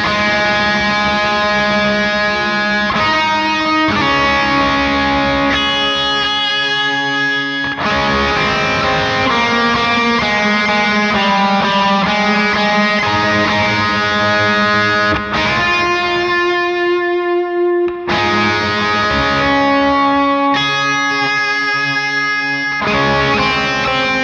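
Distorted electric guitar plays a loud, steady strummed chord progression with heavy effects, chords changing every few seconds without pause.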